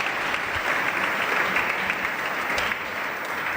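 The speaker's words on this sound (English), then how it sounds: "Let's give them a big applause." An audience at an entrepreneurship program session gives a winning team a big, dense round of applause, loud and continuous throughout with no talking over it.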